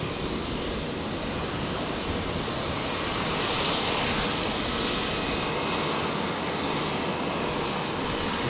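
Virgin Boeing 737-800 with retrofitted winglets arriving from Nadi on runway 01 right at Brisbane International, a steady, loud broadband jet roar holding evenly throughout with a hiss of wind, no voices.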